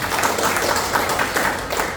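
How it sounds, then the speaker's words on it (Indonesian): A church congregation clapping for God during a Christmas sermon, a dense rhythmic patter of many hands at close range, steady and loud for the whole moment with no voices. "Tepuk tangan bagi Tuhan."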